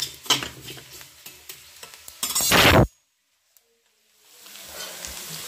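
Amla frying and being stirred in a hot pan for a quick green chilli pickle, sizzling and clinking loudly for under three seconds, then a sudden cut to near silence before faint kitchen noise returns.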